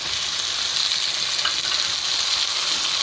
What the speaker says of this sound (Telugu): ఇప్పుడు దీంట్లోనే టమాటా ముక్కలు కూడా వేసేసుకుందాం